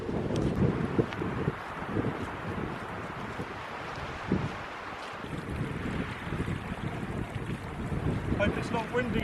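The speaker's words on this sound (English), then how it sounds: "Well, wind's picking up here, getting a bit higher up." Steady wind gusts buffet the microphone on an exposed hilltop section of the Kintyre Way in Scotland, roaring close and continuous with brief louder bursts.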